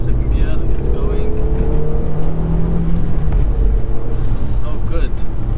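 A high-mileage Audi A3 1.8T pulls hard in second gear, its engine a steady rising drone under road rumble, with a person talking over it.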